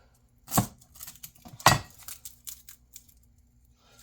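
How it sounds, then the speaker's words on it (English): A knife cuts through a single garlic clove for a Spanish omelette, giving two crisp, close chops followed by a few lighter taps and scrapes on the board, with quiet pauses between. "And we will just finely slice that one."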